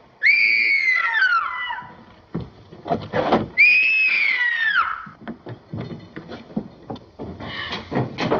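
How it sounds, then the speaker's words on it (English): A woman lets out two long, loud, shrill screams aboard a ship, each sweeping downward and separated by clattering thumps and bumps of movement. "What made you scream?"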